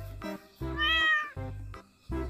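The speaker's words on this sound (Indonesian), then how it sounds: "Wow, ini ternyata di dalamnya ini ada kucing." A grey-and-white cat meows repeatedly near the microphone, four loud tonal calls of varying length with brief pauses between them, one drawn-out and rising, with no talking.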